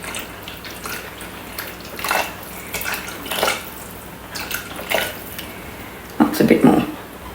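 Water is poured into a Thermomix bowl in short splashing bursts, several pours with pauses between them and a louder gush at the end, with talking in the background.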